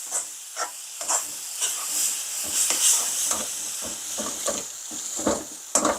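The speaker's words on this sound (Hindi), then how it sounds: "जब हम फ्राई करते हैं गुड़ को इसके साथ, तो तुरंत हमें मिलाना है।" Jaggery fries with wheat-flour halwa in a pan, a steady soft hiss and sizzle broken by repeated scraping and stirring strokes of a spoon, fairly close and with no talk.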